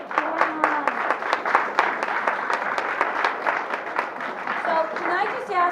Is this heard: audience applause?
yes